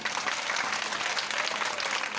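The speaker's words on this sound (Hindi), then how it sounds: "ठाकुर जी के लिए जोरदार ताली।" Loud, dense applause from a crowd at a devotional Krishna katha gathering, continuous clapping throughout with no voices.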